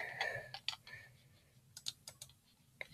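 Typing on a computer keyboard while searching on Google: a quiet, close series of irregular key clicks in small bursts, with brief pauses between groups of taps.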